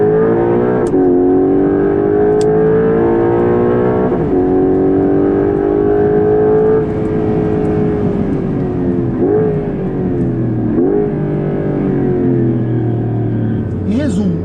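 Porsche 911 Carrera GTS hybrid (992.2) accelerating hard, the engine note climbing steadily through long pulls with brief dips at each gear change, loud and close, heard from inside the car.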